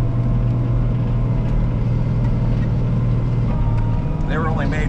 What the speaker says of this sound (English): powered with a Cat 3208 turbocharged engine, turbo from the factory.